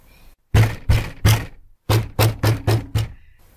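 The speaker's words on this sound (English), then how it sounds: "Then I hear banging noises on my closet door." Loud, sharp banging knocks hit a closet door in two bursts, first three heavy thumps and then, after a short pause, five quicker ones, close and hollow-sounding with nothing else around them.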